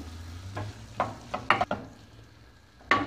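Sizzling cockle filling for empanadas is stirred in a pan, a quiet frying hiss broken by a few scattered scrapes and taps of the utensil, with a last sharp scrape near the end.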